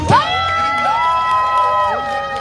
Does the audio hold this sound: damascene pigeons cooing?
no